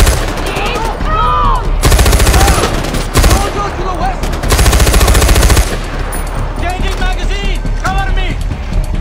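Loud bursts of automatic gunfire rattle in Far Cry 4, two long sustained volleys with shorter shots between, close and harsh, while voices shout over the shooting.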